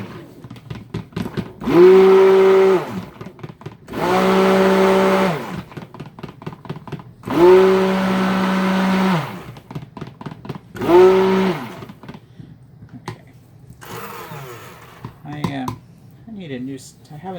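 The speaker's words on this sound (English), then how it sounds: "we'll give that a little zhuzh with the blender" A worn, wobbly stick blender whirring through soap batter made with French green clay, in four loud motor bursts of a few seconds each, separated by quieter clatter.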